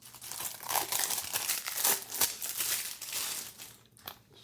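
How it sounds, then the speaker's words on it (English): Plastic shrink wrap crinkles and tears as it comes off a Dune (2021) Blu-ray case, a loud, close crackling that runs continuously with a few sharper rips, no speech. "we're going to go ahead and unwrap this"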